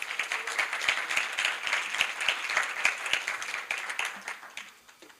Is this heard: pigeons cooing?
no